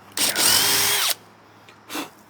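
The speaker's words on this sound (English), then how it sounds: "Probably drill it out first, eh?" A power drill drives a self-tapping screw in one loud, close whine lasting about a second, then a shorter second burst follows.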